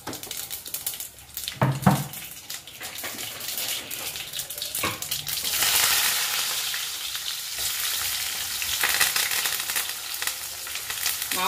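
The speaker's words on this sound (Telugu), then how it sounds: "ఆవాలు కొంచెం, జీలకర్ర వేసాను" Mustard seeds and cumin dropped into hot oil, giving a crackling sizzle that swells and grows steadily louder partway through, with scattered clinks and stirring.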